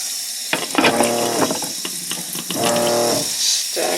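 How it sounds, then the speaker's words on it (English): Water poured into sprouting trays in a sink, irregular splashing bursts over a constant running hiss, close and fairly loud, with brief pauses between pours. "So I'm just going to add a little bit of water to each tray here."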